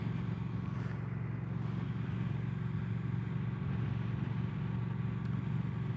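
Triumph Thruxton 1200 motorcycle riding along a road in sport mode, a steady low engine drone mixed with wind rumble throughout, heard from the rider's position with no talking.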